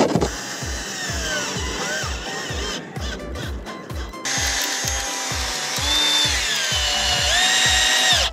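A power drill whines and rises in pitch as it bores through sheet metal onto a skate ramp, over a steady rhythmic mechanical thumping close by.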